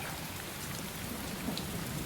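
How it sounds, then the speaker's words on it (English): Continuous downpour with dense raindrop patter and a faint rolling thunder rumble in the background, even in loudness throughout, no speech. "I hear thunder. Pitter patter."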